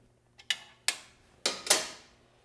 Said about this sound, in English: We got a speed wrench here.